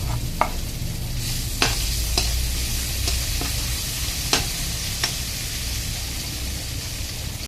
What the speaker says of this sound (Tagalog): Gisa na tayo. Konting mantika lang.